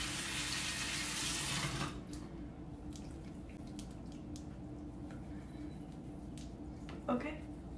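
Water from a bathroom sink tap runs briefly to wet a face cloth, a soft hiss that stops after a couple of seconds, followed by quiet handling sounds and a small splash near the end; faint and close.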